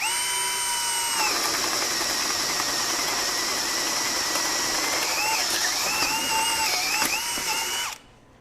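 A Bosch GSB18V-1330C 18V high-torque hammer drill driver runs with a loud, steady whine whose pitch dips and recovers a few times near the end before the motor abruptly cuts off.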